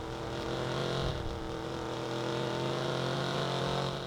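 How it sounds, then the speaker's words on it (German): A fast car in the video game Watch Dogs drives at speed, its engine droning in a steady, loud, continuous hum with slight shifts in pitch and no pauses. "Alles klar, mit dem fahren wir jetzt zu Nikki"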